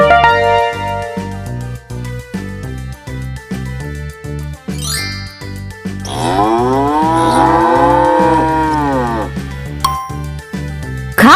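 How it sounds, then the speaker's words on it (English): A cow gives one long, drawn-out moo in the middle, heard over bouncy rhythmic music with tinkling accents. "Cow."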